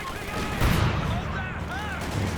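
Combat in Company of Heroes 2 brings a weapon crew's machine gun laying down suppressing fire, a dense rumbling burst of gunfire that includes a heavier boom, under a commentator's continuous talk.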